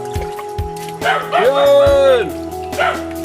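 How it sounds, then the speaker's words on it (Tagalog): A dog barks and yips several times nearby, with a drawn-out whining howl in the middle, over a steady background hum. "Kalukon itong aso ni Bibi Atasan, ingay lang."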